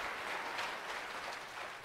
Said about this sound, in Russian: Аплодисменты Наталье, поддерживаем ее